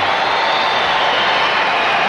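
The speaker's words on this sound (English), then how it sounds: "And listen to this crowd." A dense, loud roar of cheering from a tennis crowd at a 1996 San Jose semifinal between Agassi and Chang, sustained and close with no break.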